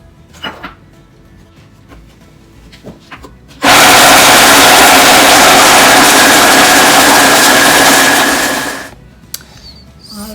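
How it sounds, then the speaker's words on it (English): A blender whirs loudly for about five seconds blending dried coconut, starting abruptly and cutting off, with faint kitchen clatter before and after. "All we're gonna do is put everything in our blender"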